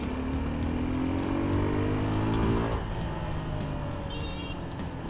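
A Suzuki Gixxer 250 SF motorcycle ridden on an open road, its engine droning steadily and climbing in pitch as it accelerates before easing off, with a constant rush of road and wind noise and no voices.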